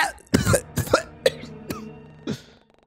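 Yale, a character in the game Klein, coughs and sputters in several ragged, throaty bursts, near and fairly loud, with voiced gasps between them.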